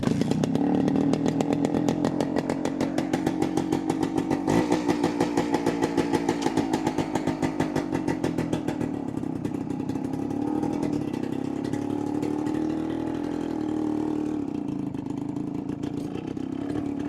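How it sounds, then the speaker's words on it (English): A 1973 Suzuki TS250 motorcycle's single-cylinder two-stroke engine runs close by with a rapid, buzzy, chainsaw-like rattle, revving up and then settling into a steadier, rougher idle. "So let's fire this thing up, see how it does, and we'll take it down the road."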